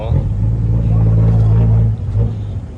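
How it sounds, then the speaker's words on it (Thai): Car engines idle and rumble close by in a road traffic jam, with a steady low drone that swells and then briefly drops, while someone talks over it. "มาเจอรถติดอย่างนี้"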